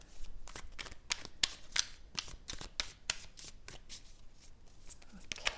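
Holographic tarot cards are shuffled in quick riffling bursts, a steady run of crisp flicks and slaps close by, with faint murmuring talk underneath.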